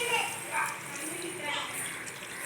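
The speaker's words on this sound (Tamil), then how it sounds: "கூடவே அரிசி கழிஞ்ச தண்ணி ஊற்றிக்கலாம்." Rice-washing water pours into a pot of mutton leg soup, giving a steady gushing, splashing flow for a couple of seconds at close range.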